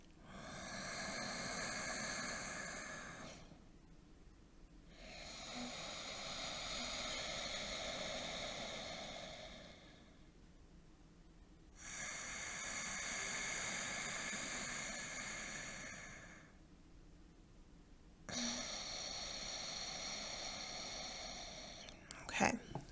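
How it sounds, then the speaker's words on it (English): Slow, deep breathing in and out through the nose, calm and ocean-like: four long airy hissing breaths of a few seconds each, separated by short pauses, close and soft with no talking. "you're going to breathe through your nose slowly, and then you're going to breathe out again through your nose"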